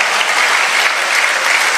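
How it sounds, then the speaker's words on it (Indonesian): Dense, steady applause from a church congregation fills the space at close range, a continuous wash of many hands clapping with no voices standing out. "Tepuk tangan dong buat saudara."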